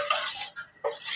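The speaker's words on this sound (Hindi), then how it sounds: "इसको हम अच्छे से मिक्स करेंगे" Metal spoon scraping and stirring bread and semolina halwa with water and cardamom in a pan, two bursts of bright clinking and scraping separated by a short pause, close and alone.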